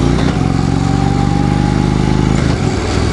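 A 2016 Indian Chieftain motorcycle engine idling nearby, a loud steady low thumping rumble with a slight rev change near the end.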